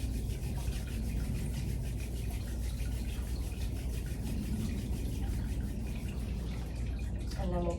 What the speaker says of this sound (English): So we'll start with rubbing the palms together